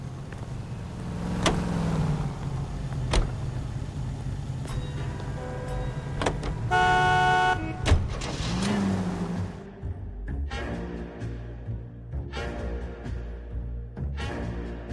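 A car drives through the city in the video game L.A. Noire, with a steady engine hum, shifting tones and occasional mechanical clunks and whines, heard up close with no talking.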